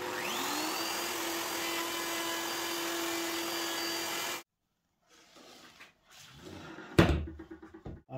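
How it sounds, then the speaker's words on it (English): A router fitted with a guide bushing and a 10mm straight bit runs steadily at high pitch while clearing waste inside a template, then cuts off abruptly, followed by scattered bumps and one sharp knock near the end. "I then put the guide bushing on my router and the 10mm straight bit almost to full depth, and this is to remove most of the waste"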